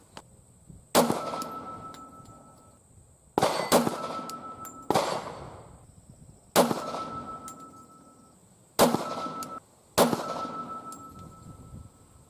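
Six .40 caliber shots of Hornady Critical Duty 175-grain FlexLock ammunition crack out one at a time, spaced a second or two apart, each sharp report followed by a ringing, decaying metallic tail.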